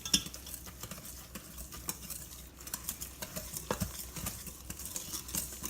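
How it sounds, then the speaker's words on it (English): Light, rapid clinking and scraping of a whisk stirring chocolate cake batter in a bowl, an irregular close-up patter with no voices. "we're just going to whisk this all together."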